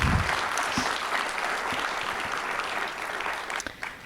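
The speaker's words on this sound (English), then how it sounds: "So give them a round of applause, please." A room full of guests applauds at a donor appreciation and scholarship celebration, steady dense clapping throughout that thins into a few scattered claps near the end.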